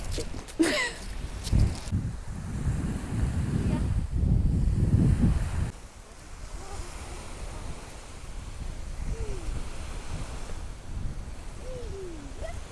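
Strong wind of about 12 metres per second roars and buffets the microphone beside the sea, with surf churning underneath; the gusts ease partway through, leaving a steadier rushing noise.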